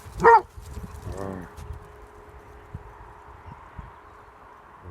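A dog gives one sharp, loud bark, then a quieter whimpering yip follows, set outdoors among soft background rustling and faint thuds.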